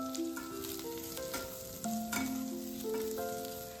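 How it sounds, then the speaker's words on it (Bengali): Chopped garlic, ginger paste and onion fry together in a pan for egg Manchurian, a faint sizzle with stirring clatter heard alone, behind a soft tonal music line. "একটু ভাজা হয়ে গেলেই এর মধ্যে রসুন কুচি, আদা বাটা, পেঁয়াজ সব একবারে দিয়ে ভালোভাবে মিশিয়ে নেব"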